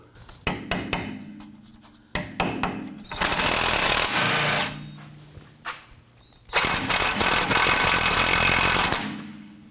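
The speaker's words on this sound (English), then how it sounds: "I'm going to go ahead and use my hammer and gently start to work that bolt through" Sharp metallic hammer strikes in quick bursts as a hammer taps a rear sway bar link bolt out on a Toyota Camry, mixed with long stretches of loud grinding, rattling tool noise.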